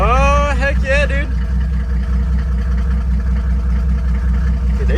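A Mercedes 380SL fitted with a turbo diesel engine idles at a low, steady rumble close by, with a voice talking briefly over the first second before the even engine hum carries on alone.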